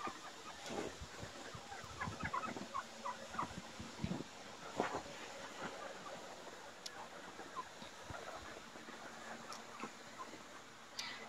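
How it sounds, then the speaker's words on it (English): Wild turkeys cluck and gobble in scattered bursts at a distance, faint and irregular, over quiet outdoor background on a snowy December day. "Wild turkeys, wow."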